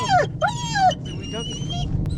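A small dog yips and whimpers in short, high, wavering bursts close by, set against a steady low rumble of background noise at a campervan.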